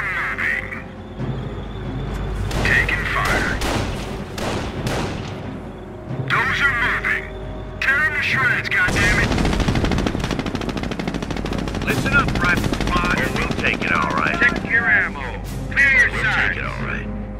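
Sustained machine-gun bursts and rifle shots crackle through a Company of Heroes battle at Hill 192 in Normandy, dense and loud for the whole stretch, with radio-style soldier voices shouting over the firing.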